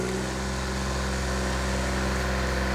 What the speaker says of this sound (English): Some of the tractor's having to work hard.